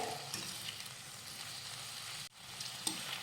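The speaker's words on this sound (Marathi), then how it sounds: "दोन मध्यम आकाराचे टोमॅटो उभे चिरून घेतलेले आहेत ते घालूयात त्यानंतर घालूयात सात ते आठ काजू आणि हे परतून घेऊयात" Chopped tomatoes and cashews sauté in a pan for kaju masala, giving a soft, continuous sizzle with a few faint stirring clicks. It pauses briefly near the end, then resumes quietly, and no one talks.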